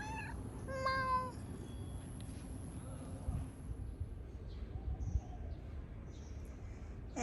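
A tiny kitten gives a couple of thin, high meows early on, then only faint outdoor background with a steady low hum follows.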